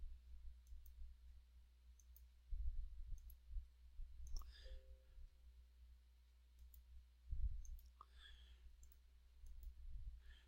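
A computer mouse is clicked during a programming lesson, giving faint, crisp little ticks scattered over a low steady hum, with quiet handling bumps in between.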